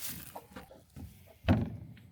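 Farmyard chickens cluck in short, scattered calls at moderate distance, with one louder burst partway through and no talking.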